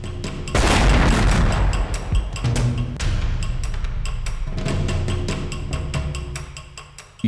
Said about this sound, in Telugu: ఏంటా బ్లాస్ట్? చప్పుడు కింద నుండి వచ్చింది.